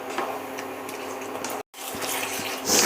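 Water is poured from a mixer jar into a pan of dum aloo gravy, giving a continuous splashing, gurgling pour that stops for a moment and then resumes, rising toward the end.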